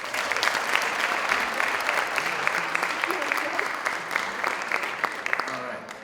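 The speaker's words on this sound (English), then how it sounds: "you should give yourselves a round of applause for that" An audience at a winter sports awards night claps steadily for several seconds, a dense patter of many hands that fades slightly at the end.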